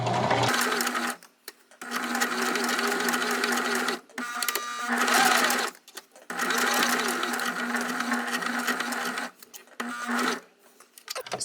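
A sewing machine stitches a fabric patch in long, steady runs that stop and restart several times with short pauses as the piece is turned, loud and close.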